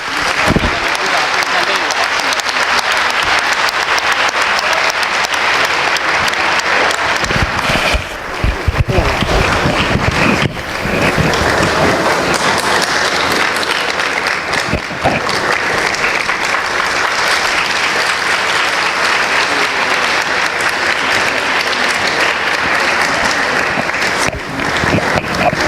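An audience at a Buddhist ceremony marking Lord Jigten Sumgon's 800th parinirvana applauds continuously for around twenty-five seconds, with voices mixed into the clapping.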